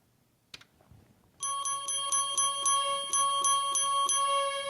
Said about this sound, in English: here's some bells as a solo sound